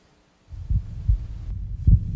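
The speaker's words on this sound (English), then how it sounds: "This is the actual sound of my heartbeat." A human heartbeat recording: a few deep, muffled low thumps in a slow, uneven rhythm over a soft background hum, with no voices.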